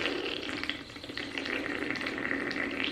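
Trader Joe's sparkling apple juice pours close up, a steady fizzing, bubbling rush of carbonated liquid with no talk over it.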